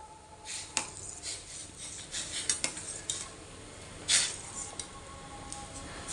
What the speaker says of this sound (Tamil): இப்போ லைட்டாக கலந்து கொடுத்துக்கலாம்.